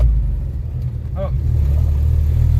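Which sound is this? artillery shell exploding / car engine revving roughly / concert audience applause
car engine revving roughly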